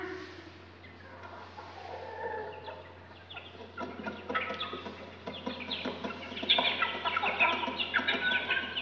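Chickens clucking in a village yard near a garden, a busy scatter of short overlapping clucks and calls over steady low background hum, growing denser and louder toward the end.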